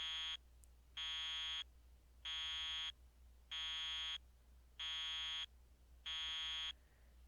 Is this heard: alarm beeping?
yes